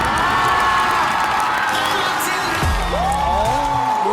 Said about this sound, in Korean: 이렇게 관객들의 환호성도 엄청났습니다.